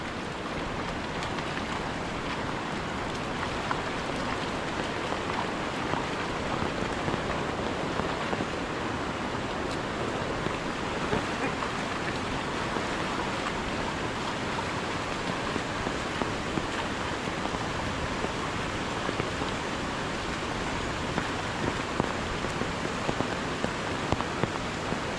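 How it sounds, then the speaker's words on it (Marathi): Torrential monsoon rain pours down in the Konkan countryside by rice fields and a flooding river, a dense, steady roar that holds unbroken for the whole stretch with no voices. "आज खूप जोरदार पाऊस"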